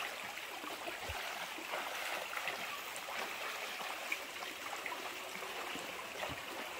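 River water flowing steadily in a broad, continuous rush, a fairly quiet wash with small trickles and splashes scattered through it, no voices.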